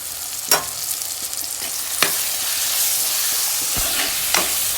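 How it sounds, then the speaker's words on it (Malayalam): Chopped onion and tomato sauté in a pan, a constant hiss of frying with occasional clinks and scrapes as they are stirred. "ഉള്ളിയും തക്കാളിയും നല്ലോണം വഴറ്റുക."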